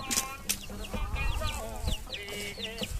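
Chickens clucking in a backyard flock, several birds with short repeated clucks and chirps overlapping continuously at close range, no talk.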